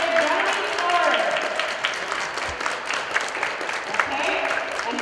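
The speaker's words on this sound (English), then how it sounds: "A big round of applause for Mr. Johnny Torres." An audience at a school assembly applauds a guest presenter, a steady wash of clapping from a crowd filling the room for several seconds, fairly loud and continuous with faint voices mixed in.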